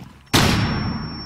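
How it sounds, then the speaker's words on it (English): A flashbang grenade in the video game Rainbow Six Siege goes off with a sudden loud bang, followed by a sustained high-pitched ringing tone that lingers over a fading rumble. "I got a flash grenade. And flashbang out!"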